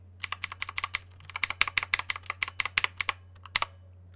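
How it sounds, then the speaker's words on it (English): Keys on a mechanical keyboard with blue switches click in quick, sharp bursts, close and crisp, in an uneven typing rhythm over a low steady hum, with no talking. "This is blue switches"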